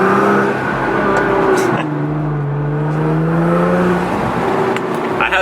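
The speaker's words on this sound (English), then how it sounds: "You can definitely hear the exhaust right now." Exhaust note of a Toyota A90 Supra while driving, a steady loud drone that climbs and falls in pitch as the car pulls through gears, heard close from inside the cabin.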